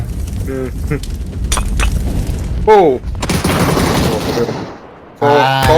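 Gunfire in the battle royale video game PUBG during a tournament match, with loud bursts of automatic fire and single shots across the clip, dense volleys in the middle, a brief lull, then another sharp burst at the end.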